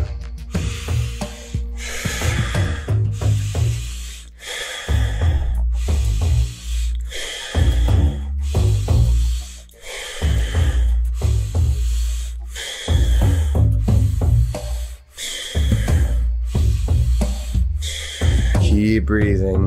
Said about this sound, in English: Going into circular breathing.